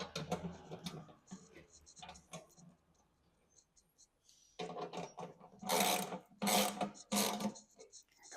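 Bolts tightened by hand with a ratchet wrench during snowblower maintenance, producing quick rhythmic clicking runs close to the mic, with a quiet pause between bursts.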